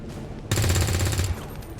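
Rapid automatic gunfire in the XCOM strategy video game, a dense burst of shots starting abruptly and rattling on for under a second before cutting off, with a quieter game background before and after.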